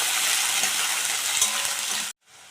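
Potatoes and onions sizzle steadily in hot oil in a pan while being stirred, a dense continuous frying hiss that cuts off sharply near the end, leaving a quieter residual sizzle.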